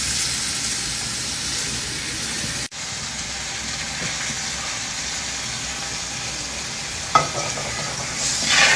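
Buffalo beef goes into a curry masala with small shallots and sizzles in the pan, a loud, steady frying hiss throughout, broken by a brief utensil clatter near the end.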